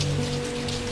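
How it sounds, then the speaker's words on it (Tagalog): Rain falls steadily at night, a dense close hiss of drops on surfaces with a low droning hum underneath, continuous and unbroken. "Gabi na po umuulan pa."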